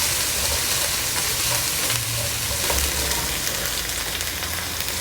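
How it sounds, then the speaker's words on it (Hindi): Ingredients for chicken macaroni fry lightly in a pan, a dense, steady close-up sizzle with stirring running throughout. "इनको आपने हल्का सा फ्राई करना है"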